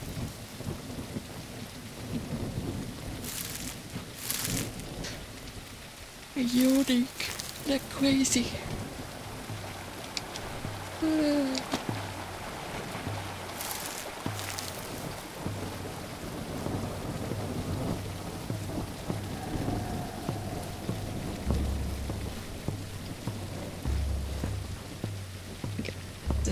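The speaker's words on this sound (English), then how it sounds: "Even with the thunder rumbling, I just absolutely love that sound." Steady rain patters throughout a stormy scene in the video game Tribe Primitive Builder, broken by several loud, rumbling thunder crashes. Someone talks briefly over the storm.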